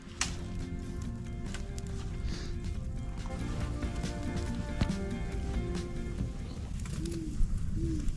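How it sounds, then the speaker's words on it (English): An owl hoots at a cold evening campsite, giving a few soft, low hoots toward the end against steady outdoor background noise, with no one speaking over it. "Did you guys hear that owl?"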